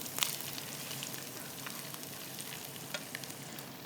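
Onions fry and sizzle in a pan for chana pulao while being stirred, a constant hiss with a few scraping clicks, close and without talk.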